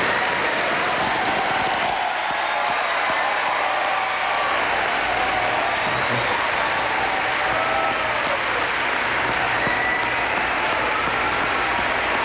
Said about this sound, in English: to a burst of what one presumes is bipartisan applause, George W. Bush climbs the podium